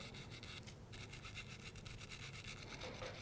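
A brush scrubs red paint out of an airbrush with airbrush cleaner, a quiet, steady rapid bristle rubbing that runs throughout with a brief pause near the start.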